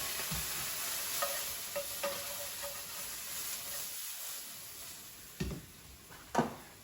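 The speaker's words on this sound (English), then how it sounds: "So while the onions are frying, also give them the occasional stir to make sure that it isn't just one side being cooked." Onions frying in a pan give a steady close sizzle, broken by a few clanks and scrapes of stirring toward the end; no one speaks.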